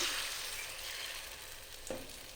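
Omelette egg batter frying in a spoonful of hot oil in a pan, a steady close sizzle throughout with a brief sharper spatter near the end.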